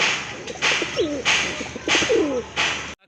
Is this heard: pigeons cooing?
yes